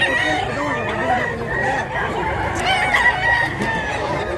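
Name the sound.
rooster crowing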